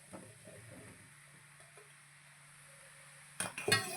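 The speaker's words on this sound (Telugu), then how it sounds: "ఇందులో మనం పుట్టగొడుగులు వేసేసుకుందామండి" Mushrooms for a curry drop into a pan of spiced mix with a soft sizzle, then a spoon scrapes and clanks loudly against the pan near the end.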